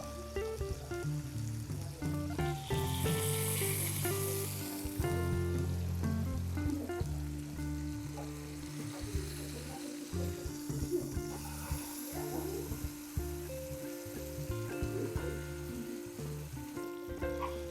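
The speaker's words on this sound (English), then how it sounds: "we have our chuck roast seared" Chuck roast searing in a hot pan for pot roast, a steady close sizzle and fry that holds throughout, with light clinks and shifts as the meat is moved.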